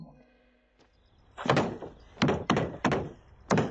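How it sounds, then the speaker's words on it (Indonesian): Knocks on a door land in a loose series of about five sharp, close thumps after a quiet start, each one short and forceful. "Buka pintu dong."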